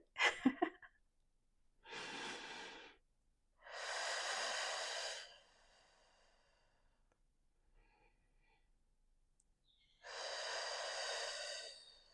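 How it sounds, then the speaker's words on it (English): Slow, deep breaths taken close to the microphone, a few long airy inhales and exhales separated by quiet pauses, with a short sniff or snort at the start. "I just need to breathe."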